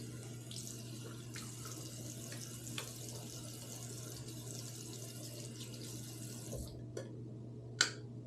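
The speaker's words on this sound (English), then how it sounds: "Take your lid, do a quick rinse." A shaving soap lid rinsed under a running tap: a steady hiss of flowing water splashing into a sink, cutting off near the end and followed by a couple of brief knocks.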